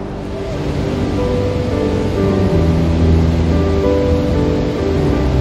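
Niagara's Horseshoe Falls in a strong wind, a loud, constant roar of rushing water and blowing spray with low rumbling gusts, no talking.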